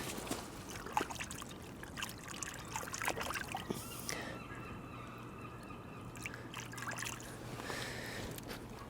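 A bone or pottery fragment found while mudlarking under an old bridge at Berwick-upon-Tweed is rinsed in river water. The trickling and splashing are close and steady, with broad riverside noise around them and possible goose honks in the distance.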